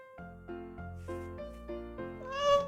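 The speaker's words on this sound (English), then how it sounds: "Cats are super playful and have long furry tails." A cat lets out a run of short, close meows in quick succession, ending with a higher, louder cry.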